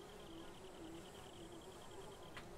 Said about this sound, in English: The sounds of the crickets chirping.